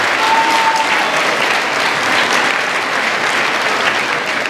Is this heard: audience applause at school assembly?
yes